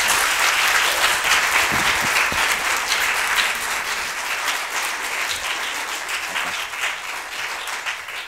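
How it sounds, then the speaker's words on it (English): Loud, sustained applause from a church congregation, dense and steady, gradually easing slightly toward the end. "On that note, should we give James a massive round of applause?"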